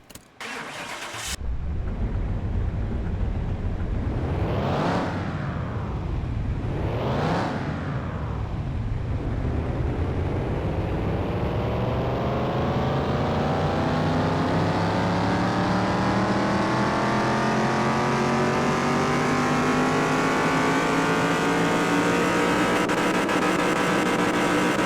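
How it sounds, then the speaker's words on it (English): A car engine in Car Mechanic Simulator 2021 revs hard twice on a dyno tune, then holds a long, steady climb through the gears, loud and continuous with no talk. "Now we'll hit the dyno tune."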